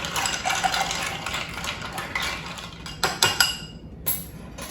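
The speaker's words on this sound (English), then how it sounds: "And we'll give this a good stir." Ice swirls in a mixing glass as a Cabaret cocktail of dry vermouth, Benedictine and bitters is stirred, a steady close jingle of clinking that ends in a few sharper knocks and taps.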